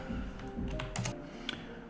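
Keys on a computer keyboard are tapped in a quick, uneven burst, close and fairly faint, as a folder name is typed.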